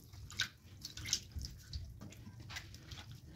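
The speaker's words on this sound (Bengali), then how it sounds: "এবার ছানাটাকে আমি এইভাবে একটু জলেতে ধুয়ে নেব, যাতে ভিনিগারের যে ফ্লেভারটা আছে সেটা একটু ফুটে যায়" Drained chhana (cottage cheese curdled with vinegar) rinsed by hand in water, giving soft, faint splashes and drips in a quiet kitchen, with a few small sloshes spread across a few seconds.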